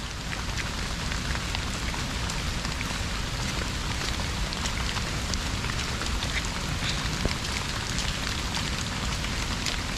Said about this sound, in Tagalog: Epekto ng walang tigil na ulan.